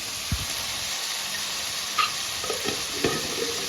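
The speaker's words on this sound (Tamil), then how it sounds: "இது வதங்கின பிறகு நம்ம வந்து இஞ்சி பூண்டு பேஸ்ட்டு கொஞ்சம் சேர்த்துக்கலாம்." Ginger garlic paste frying with sautéed ingredients in a home pan, a low steady sizzle broken by a few soft stirring scrapes and clinks, close and moderately quiet with no talking.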